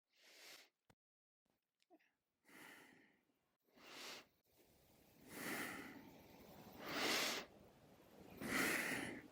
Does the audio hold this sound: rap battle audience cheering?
no